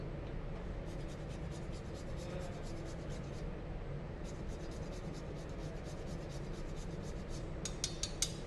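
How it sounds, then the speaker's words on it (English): Fresh whole nutmeg is grated by hand while a Thanksgiving dish is mixed, giving soft, repeated rasping strokes that are faint and come in short bursts. "or you can take fresh nutmeg. Perfect. And just do a little grating"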